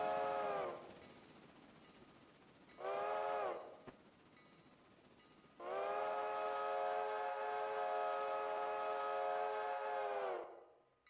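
A train horn sounds three times: two short blasts, then one long sustained blast, loud and close over a low rumbling background.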